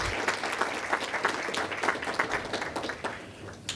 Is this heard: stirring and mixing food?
no